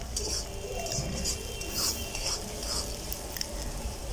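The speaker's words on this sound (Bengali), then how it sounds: "এখন এই পেঁয়াজটাকে আমি সুন্দর করে নাড়াচাড়া দিয়ে আমি এটা হালকা করে ভেজে নেব।" Onions are stirred and lightly fried in a pan for khichuri, a soft continuous sizzle with repeated scraping strokes of the spatula, close and moderately quiet, with no talking.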